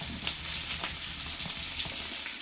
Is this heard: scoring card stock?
no